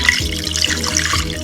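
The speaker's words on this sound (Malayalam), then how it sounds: "നമ്മൾ നാളികേരപ്പാല് എടുത്തു വെച്ചത് ഒഴിക്കുക," Coconut milk pours into a king fish curry, a short, close, steady liquid stream with light splashing.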